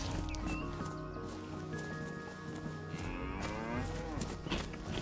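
Cow mooing in the survival game DayZ, a few drawn-out lowing calls over steady game ambience and music-like drones throughout.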